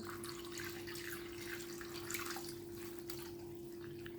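Tap water runs steadily into a kitchen sink to rinse okra, a continuous close hiss of flowing water with no talking.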